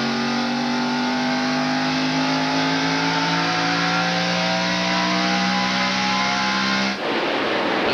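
NASCAR Busch Series stock cars roar around the racetrack in a tight pack at the 1998 Autolite Platinum 250, a loud sustained engine drone with rising pitch that shifts abruptly as cars pass.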